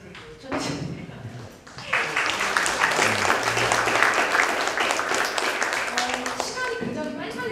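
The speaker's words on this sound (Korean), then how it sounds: "그래서 혼자 박수를 쳐주시네요" Clapping rises after a short stretch of talk at a book-reading lecture event and continues as a sustained, fairly dense patter at moderate loudness to the end.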